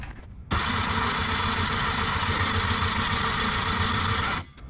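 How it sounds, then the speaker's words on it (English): A VW Beetle Volksrod engine cranks, catches and settles into a loud, steady idle for about four seconds before it cuts off abruptly. "All right, crank her over."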